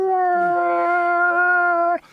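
A man imitates a long wolf-like howl with his voice, one loud sustained wavering tone that holds for nearly two seconds and then breaks off abruptly.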